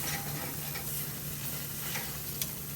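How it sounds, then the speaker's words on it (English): Steak fat roasting on an outdoor grill gives off a continuous close sizzle and crackle with no break, fairly quiet and steady, with a tiny tick near the end. "Roasting up that fat."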